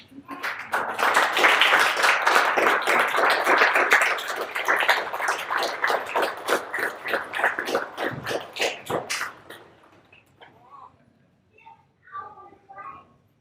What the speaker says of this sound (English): let us all stand to give a good welcome clap to Dr. Sybil Salins